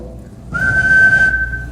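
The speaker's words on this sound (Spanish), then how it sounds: "Por ejemplo, el silbido" A person whistles a single steady, pure note. It starts abruptly, holds for under a second and then stops in a short, clear burst.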